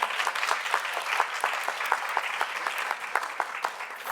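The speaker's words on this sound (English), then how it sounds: "can you give a big round of applause to this team who has been slugging it through the last 2 years?" Audience at a research report launch event applauding the team behind it, a sustained, lively burst of many hands clapping at close range with no break.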